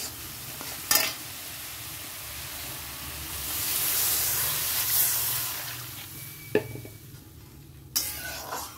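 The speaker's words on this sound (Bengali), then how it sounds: "জল দিয়ে দেবো।" Water hitting a hot pan of mustard fish curry swells into a soft hiss and sizzle, framed by a few sharp metallic clinks of utensil on pan, close by and without talking.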